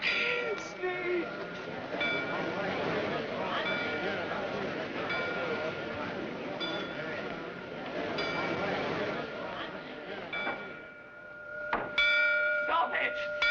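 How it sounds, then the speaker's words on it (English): Bells ring continuously in a frontier drama scene, a metallic clanging mixed with voices talking over it, with sharper bell strikes standing out near the end. "Sneed, stop those bells!"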